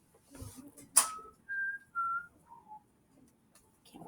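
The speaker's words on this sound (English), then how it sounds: "Can't whistle well." A person whistles a few short, clear sustained notes, each shifting lower in pitch, between soft rustling and a sharp click, with no talking.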